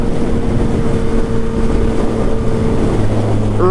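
A 2017 Yamaha FZ-09 motorcycle engine drones steadily while riding, a loud continuous hum with a low tone that shifts near the end, mixed with wind rush.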